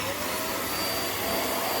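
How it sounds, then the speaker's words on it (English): A Vax Mach Air upright vacuum cleaner runs on carpet sprinkled with sawdust, giving a loud, steady, close motor whine and rushing airflow that holds constant throughout, with no voices. "I've sprinkled some sawdust on carpet just to show you how easy this vacuum is to use."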